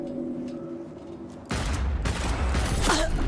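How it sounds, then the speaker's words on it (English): Rapid gunfire in Cyberpunk 2077 bursts in suddenly halfway through, loud dense shots following a quieter stretch of game ambience. "Wow, I missed every single shot."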